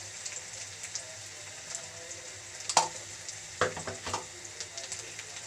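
Softened onions fry in a pan for a cabbage and egg dish, with a steady quiet sizzle. A spoon stirs and scrapes now and then, giving a few sharper clicks against the pan.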